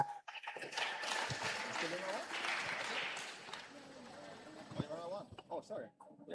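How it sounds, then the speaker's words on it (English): Graduation-ceremony audience clapping along, a continuous patter of hands heard somewhat distantly beneath a voice talking over it, with the clapping thinning out toward the end. "keep those hands clapping, keep them clapping"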